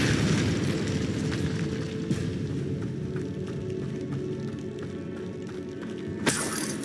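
A Depulso force spell is cast in the video game Hogwarts Legacy, giving a dense, rumbling magical blast that churns steadily and ends with a sharp, bright hit near the close, with no speech.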